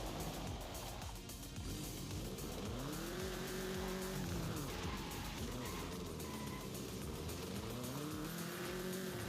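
Engine note of a car in the Forza racing game swells and falls in revving sweeps, with tire squeal as the car spins through a J-turn, steady and loud throughout with no talk.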